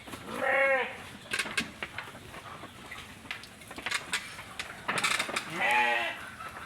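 Garol sheep bleating in the morning on a farm, two loud nearby bleats with softer shuffling and farmyard sounds between them.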